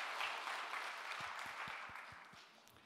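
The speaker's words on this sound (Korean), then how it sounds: "하나님 앞에 다시 한번 영광의 박수 올립시다" A church congregation at a dedication service applauds, producing a faint, distant wash of clapping that gradually tapers off, with a few soft low knocks near the end.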